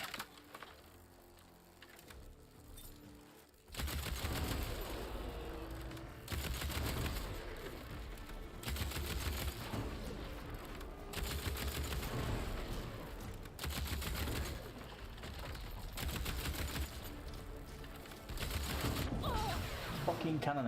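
A cannon firing in the video game Horizon Forbidden West: several heavy booming blasts with crackling debris, repeating every few seconds after a quiet start, with some talk in between.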